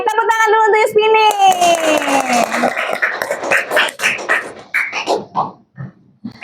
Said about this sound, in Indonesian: Tepuk tangan dulu untuk Yuspini.